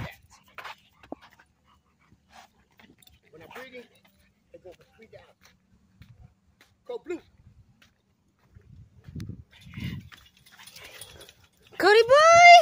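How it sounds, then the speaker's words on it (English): Dogs and puppies kept for sale, heard as sparse soft panting, snuffling and small whimpers among scattered movement, ending in a loud drawn-out whining yelp close by, with bits of human speech mixed in. "We got these dogs right here."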